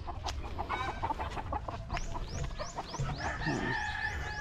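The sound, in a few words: young gamefowl stags clucking in a range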